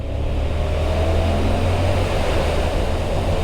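A 2024 Triumph Tiger 900 Rally Pro motorcycle runs loud and close, its engine note a dense continuous roar while it shifts through gears with a quick shifter, with no voices.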